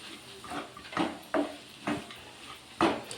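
A laddu mixture is stirred in a pan until dry, giving a run of soft scraping, knocking strokes at an uneven pace, fairly close and moderately quiet.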